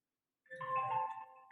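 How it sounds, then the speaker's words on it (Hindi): A mobile phone ringtone starts abruptly after silence and plays a bright, tonal electronic melody at low volume. It continues to the end with no voices over it. "मैं आप लोग को बोला मेरा ही मोबाइल बजा"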